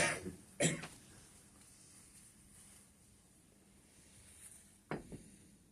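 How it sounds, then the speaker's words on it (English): A man coughs in a quiet room during a talk: two hard coughs near the start, then a quieter stretch, then another short burst of coughs toward the end. "I'm used to the fact when I cough"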